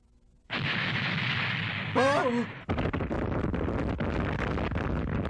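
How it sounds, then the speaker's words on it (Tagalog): Firecrackers burst in a Tagalog-dubbed anime fight scene, a loud sustained barrage of crackling blasts with a brief rising whoosh partway through, then a continuing stream of sharp pops. "Mga paputok!"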